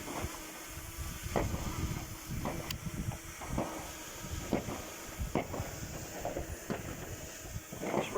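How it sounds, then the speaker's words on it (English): Gusty wind buffets a drone's microphone in a steady broadband rush, with repeated low thumps and rumbles rising and falling throughout. "It's very windy."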